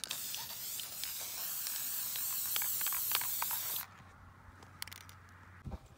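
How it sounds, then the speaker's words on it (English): A steady aerosol spray of retouch varnish hisses close up onto a painting for several seconds, then cuts off, leaving a quiet room with a few faint clicks. "I'm gonna spray it with a little light coat of retouch varnish"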